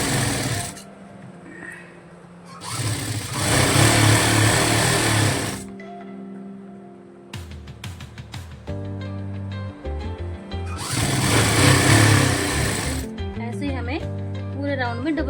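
A sewing machine runs in long bursts while double-stitching around the hem of a plazo, with pauses between runs and a quiet voice speaking in the gaps.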